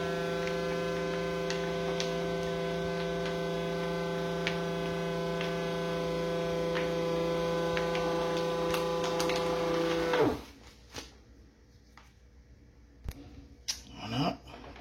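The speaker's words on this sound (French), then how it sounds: "Il faut compter à peu près 25 secondes pour la soudure." Vacuum sealer heat-sealing a second bag of duck pot-au-feu, a steady loud electric hum with strong harmonic tones holding for about ten seconds, then cutting off abruptly, followed by quiet clicks and handling noises.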